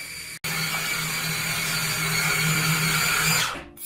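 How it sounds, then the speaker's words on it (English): A blender grinds pecans into nut butter with a steady, loud whirring roar that cuts out briefly near the start, then runs continuously before winding down at the end. "I'm making my own nut butter. What? I want pecan nut butter."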